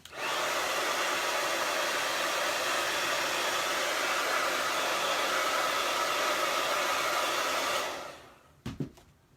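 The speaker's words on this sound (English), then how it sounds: "Let me dry this black real quick." A hair dryer blows loud and steady on wet black paint on a glass mason jar, a close continuous roar for about eight seconds before switching off, followed by a couple of faint knocks.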